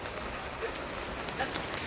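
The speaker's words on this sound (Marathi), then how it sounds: "भरपूर पाऊस चालू आहे आता थोडासा कमी आलाय" Rain patters steadily in the background, a soft continuous hiss with occasional faint drips, fairly quiet and even.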